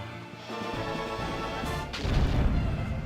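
Booming Moonstone Cannon attack explosion from the video game Skies of Arcadia: a sustained heavy rumble that swells into a louder crashing burst partway through, loud and close, with no voices over it.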